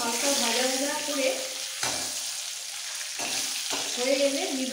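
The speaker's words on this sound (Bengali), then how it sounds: "এবার একটু হালকা ভাজা ভাজা করে" Potato pieces lightly frying in oil with a pinch of salt for a rohu fish curry, a steady close sizzle with soft stirring scrapes and brief pauses, no talk.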